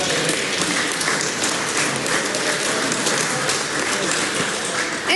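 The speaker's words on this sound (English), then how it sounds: "I'd just suggest that applauding that sort of activity is not wise." Members of New Zealand's Parliament applaud in the debating chamber, a dense, continuous patter of clapping that holds steady for about five seconds.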